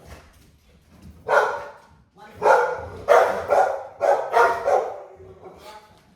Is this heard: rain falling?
no